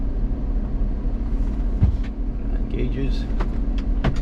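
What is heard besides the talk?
van driving on a test drive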